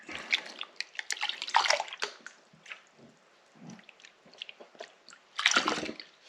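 A pan being rinsed out with water, giving irregular bursts of splashing and swishing that come in uneven clusters with quieter gaps, the loudest near the end.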